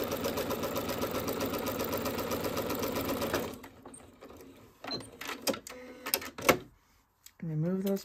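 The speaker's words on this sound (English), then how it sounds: "I'm going to sew right down the center on that line" Sewing machine running steadily as it stitches a straight seam down the center line of fabric, a fast even whir for about three and a half seconds, then stopping, followed by light handling noises and a brief voice.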